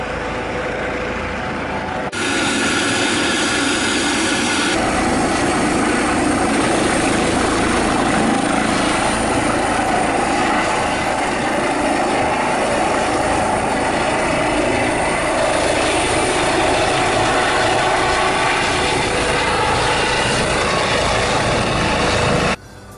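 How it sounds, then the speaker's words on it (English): Great Western Air Ambulance helicopter running steadily and loud at close range while refuelling, a continuous rotor and engine roar that holds for about twenty seconds before cutting off abruptly. "These guys are my local air ambulance"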